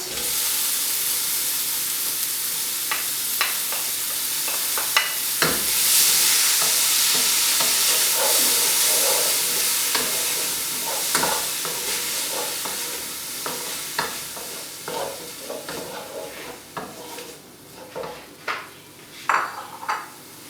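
A tofu ratatouille with leek and tomato simmers and sizzles steadily in a pan, with occasional stirring clinks and scrapes that become sparser and more distinct toward the end.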